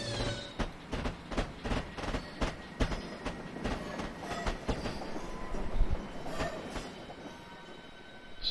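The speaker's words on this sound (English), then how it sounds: "See our little train coming along at the station." A train in Train Sim 2014 rolls into a station, its wheels clacking in a steady rhythmic series of sharp beats over a low rumble at moderate volume.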